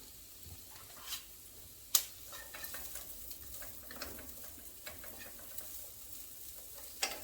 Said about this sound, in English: And I have 1 onion that I cut. And we're going to saute that.